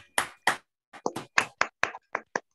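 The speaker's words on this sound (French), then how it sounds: "On peut applaudir le talent de notre..." A handful of webinar participants clap in short, separate bursts, about nine sharp distinct claps spread unevenly over a couple of seconds, close and clear against silence.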